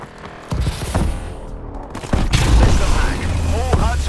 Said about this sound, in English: Friendly missile strikes inbound.